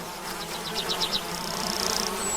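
Bees buzz with a steady droning hum, the tone wavering as they move about, close and continuous.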